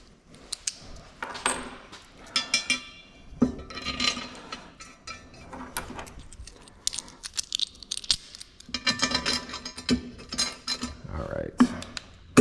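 Old metal washers handled during a bolt mock-up on a Nissan Xterra M122 supercharger upgrade, clinking and jangling in scattered bursts of metallic clatter close by, repeated over several seconds with brief quiet gaps.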